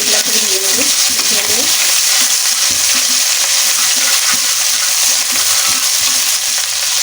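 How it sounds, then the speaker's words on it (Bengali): White cumin seeds frying in hot oil while being stirred for a hilsa fish curry hiss in a loud, continuous sizzle, with occasional stirring clatters and faint murmuring near the start. "দিয়ে নেব কিছু সাদা জিরা ফোড়ন, দিয়ে কিছুক্ষণ একটু নেড়ে নেব।"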